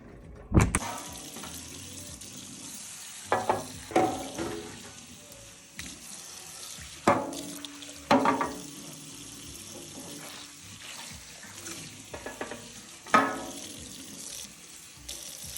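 Water runs and splashes intermittently in a kitchen sink during cleaning, with several bursts of spray and clatter against a steady faint background, heard up close.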